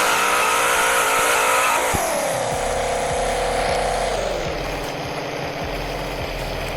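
A car in Roblox Greenville revs hard while spinning donuts on factory tires, the engine note climbing and dropping in loud, close sweeps before settling into a lower, rougher drone.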